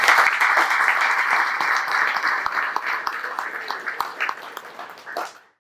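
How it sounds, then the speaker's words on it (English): A room of employees at a company ESOP meeting gives a colleague a round of applause, sustained clapping that gradually thins and tapers off before cutting out near the end. "give Rick a round of applause for what he did"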